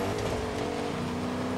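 A boat engine in the video game Fortnite holds a steady, moderately loud drone with a constant pitch throughout, with no talking over it.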